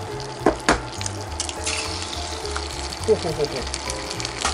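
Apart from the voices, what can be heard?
egg frying in butter in a pan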